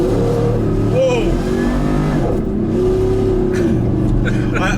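A 720 hp supercharged V8 in a modified Ford Raptor pickup revs hard, a loud, close roar that rises and falls through the throttle blips, with people's voices over it.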